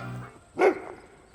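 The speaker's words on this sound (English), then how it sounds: "Ooh, that was a big old dog." A big dog gives one deep, loud bark partway through, standing out over a low steady background hum with no one talking.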